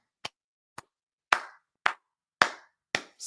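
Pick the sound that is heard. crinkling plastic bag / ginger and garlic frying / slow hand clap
slow hand clap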